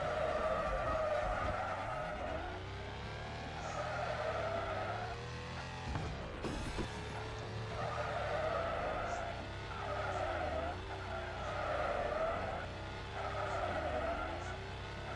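Car drifting with long screeching tire skids in the mobile racing game Extreme Drift 2, continuous engine drone with repeated squealing sweeps, someone talking over it.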